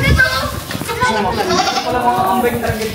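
Goats bleat repeatedly at close range, overlapping one another, with people talking over the calls.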